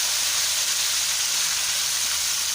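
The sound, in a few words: chicken frying in very hot oil for korma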